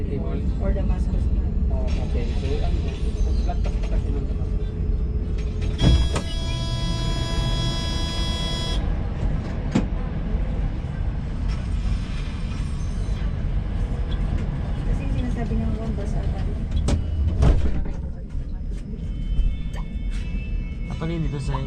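Inside a moving train in Jerusalem, a loud steady rumble and rattle of the carriage fills the ride, with a bright chime or tone partway through and an automated announcement over the noise.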